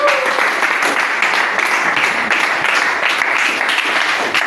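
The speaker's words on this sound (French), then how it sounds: "Applaudissez, applaudissez," A church congregation claps loudly and continuously during a lively worship service, a close, dense wall of applause with a faint rhythmic pulse.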